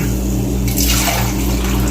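Water pours into a pot of mutton and pumpkin in a cooker, a steady rushing splash up close that swells briefly in the middle while a low hum runs underneath.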